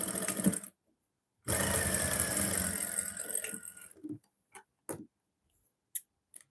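A sewing machine stitches a side seam in a long, fast continuous burst of whirring after a short opening run, then stops into a few scattered clicks and light handling knocks.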